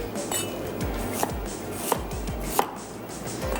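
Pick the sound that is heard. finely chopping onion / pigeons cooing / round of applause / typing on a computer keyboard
finely chopping onion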